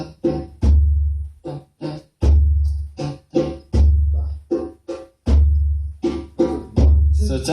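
Drum beat in a four count played with alternating hands, loud booming bass strokes answered by sharper hits in a steady repeating pattern, close and alone without talk.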